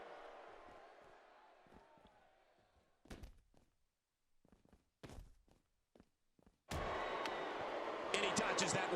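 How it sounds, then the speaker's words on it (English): Arena crowd noise from the WWE 2K16 wrestling video game: muffled ambience and thuds give way to a sudden loud, sustained roar of the crowd near the end. "Now the crowd's back on."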